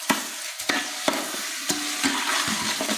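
A spatula stirs a zarda mixture of milk and yogurt in a pot, with sharp regular scrapes about every half second over a continuous bubbling sizzle, close and loud.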